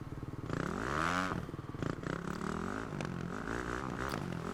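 A motocross bike engine in MXGP Pro revs with the throttle opened, its tone rising and falling in a buzzing, harmonic-rich whine that holds steady at moderate loudness with a brief dip midway.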